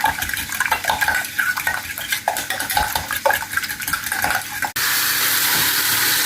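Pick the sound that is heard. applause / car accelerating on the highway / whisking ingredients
whisking ingredients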